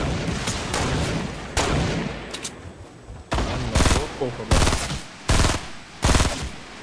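Bursts of automatic gunfire in the video game Fortnite, loud and repeated rapid volleys with short gaps, several heavy blasts toward the end, under a continuous backdrop of game noise.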